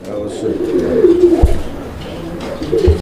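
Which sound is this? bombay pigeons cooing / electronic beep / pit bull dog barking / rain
bombay pigeons cooing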